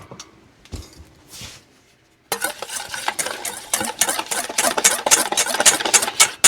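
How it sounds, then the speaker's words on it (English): Sugar being whisked into milk powder in a bowl, a fast, steady scraping and clinking rhythm that starts abruptly after quiet, close and fairly loud, growing busier toward the end. "Whisk that in and get it smooth"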